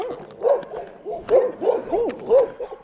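Close, insistent yapping from a group of small Chihuahuas outdoors on a cross-country hike in Ohio, quick barks in an uneven rhythm with brief pauses between bursts.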